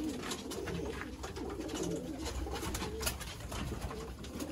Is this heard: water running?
no